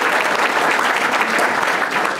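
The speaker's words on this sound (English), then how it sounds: "Round of applause right there." Conference audience at a social services forum giving a dense, even round of applause, loud and continuous throughout.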